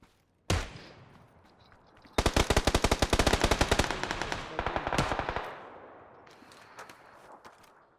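Rapid automatic gunfire in PUBG played in first-person, a single loud shot followed by a long dense burst of close rounds that tapers into fainter scattered fire and echoes.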